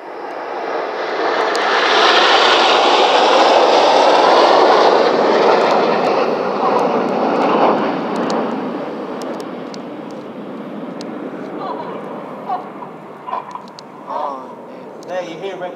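RAF Red Arrows jets flying a display with smoke on at Epsom College: a loud, broad jet roar swells as the aircraft pass, then fades to a distant rumble with scattered clicks and faint voices.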